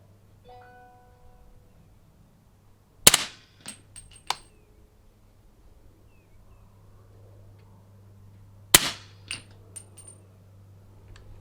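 Two sharp suppressed shots from a 300 Blackout rifle firing 220-grain reloads, about six seconds apart. Each crack is followed by quick metallic clatter from the action and clinks of ejected brass, over a low steady hum.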